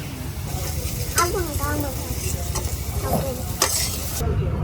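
Lentil fritters fry in a pan of oil with a steady, close hiss and sizzle, while faint voices talk in the background.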